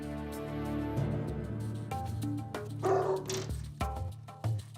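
An aggressive dog named Cujo barks and yips near a door in several close, sharp bursts, with whimpering tones between them and no talking.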